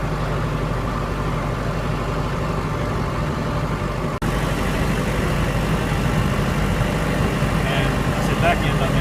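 A Kubota tractor engine chugs low and steady as it creeps slowly down a hill carrying a big rock on its front end. The rumble is continuous and close, with one brief dropout in the middle.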